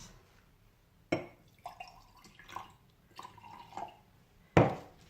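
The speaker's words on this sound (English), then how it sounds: "So now just put some water in with the paint." Water added to watercolour paint and mixed on a palette while painting a mountain landscape, a few separate small drips, splashes and brush clinks with quiet gaps between them, close and fairly soft.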